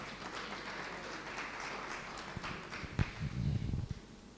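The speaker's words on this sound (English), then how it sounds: "let's give them a round of applause" An audience at a school governing body awards ceremony applauds, quiet scattered clapping that thickens and grows louder near the end before fading out.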